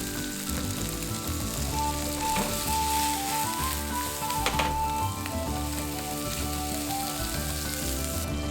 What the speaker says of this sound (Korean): 양파가 투명해지면 새우를 넣어준다